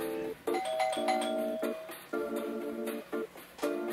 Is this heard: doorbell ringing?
yes